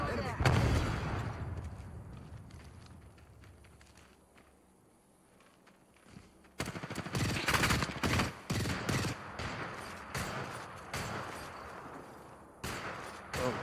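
Bursts of rapid gunfire in Apex Legends, quiet at first, then a dense run of sharp close shots with brief pauses, while people talk over it.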